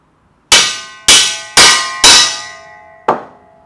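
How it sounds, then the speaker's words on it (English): A hammer strikes a universal joint to drive it out of a driveshaft slip yoke, four loud ringing metallic clangs in quick succession, then a pause and one last lighter strike. "I'm going to keep hitting it until it's all the way out."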